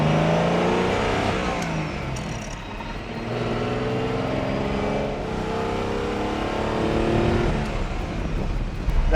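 A 1962 Maserati engine accelerating through the gears from inside the car, rising revs that drop at each shift and climb again, steady and fairly loud throughout.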